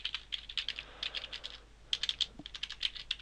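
Code is typed on a computer keyboard during Unity 3D game programming: quick, close runs of keystrokes in two bursts separated by a brief pause, with no voice over them.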